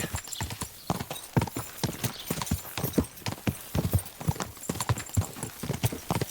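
A horse gallops in Kingdom Come Deliverance 2, hooves pounding in a quick, steady rhythm of clear clip-clop beats, close and prominent throughout.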